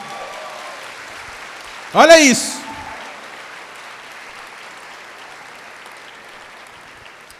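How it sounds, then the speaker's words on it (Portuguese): A church congregation applauds during a sermon, a steady wash of clapping that runs throughout, briefly topped by a loud exclaiming voice. "Aplaude o Senhor, aplaude a palavra."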